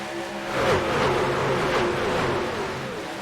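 Race trucks roar past at Fontana in the AREA Truck Series, a pack of engines rising and whining through the gears as the field accelerates, loud and continuous with a sweeping pitch change.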